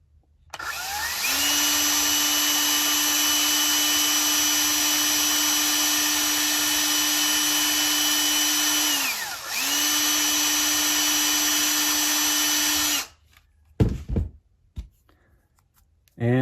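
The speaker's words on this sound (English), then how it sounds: "I've got a 1/32 bit in my D-walt there, and we're just going to drill through both of these." A DeWalt drill fitted with a 1/32 bit bores through small resin parts for a 1/64 scale fertilizer box model, giving a steady, close, high whine for about thirteen seconds with one brief dip before it stops, followed by a few faint clicks.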